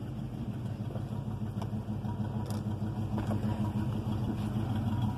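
A 1973 Dodge Titan motorhome engine with burnt valves idles at close range, a steady low rumbling throb with a slightly uneven pulse and a few faint knocks, no voices.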